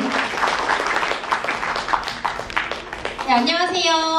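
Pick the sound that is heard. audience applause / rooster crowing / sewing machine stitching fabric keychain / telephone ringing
audience applause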